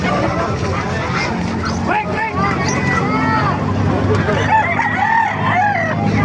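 Chickens cluck and a rooster crows repeatedly amid a noisy, bustling crowd at a chicken market in Calumpit, Bulacan, Philippines, with constant chatter and background commotion.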